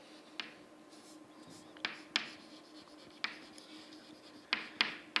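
Short, scratchy strokes of a pen or chalk drawing a tangent line on a board, faint and close, arriving in scattered bursts with quiet gaps between them.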